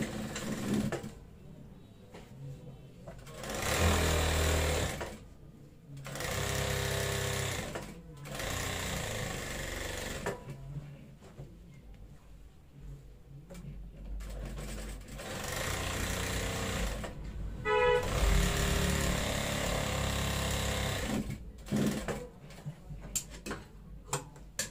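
A sewing machine stitches the sleeve of a school kameez in repeated short bursts of rapid mechanical chatter, each run separated by brief pauses, close and fairly quiet.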